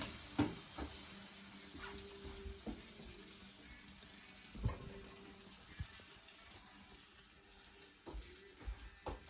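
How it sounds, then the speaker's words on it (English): Food frying in a frying pan on medium heat, a faint continuous sizzle with occasional pops and light clatter of utensils nearby. "I'm just going to put those right on that frying pan and let those cook for a minute"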